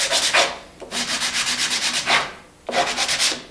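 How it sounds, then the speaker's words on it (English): Close-up hand sanding of wooden picture frame edges with 150 grit sandpaper, giving rapid rhythmic rasping strokes in three bursts with short pauses between them. "Now this is 150 grit. Just want to go on the edges here."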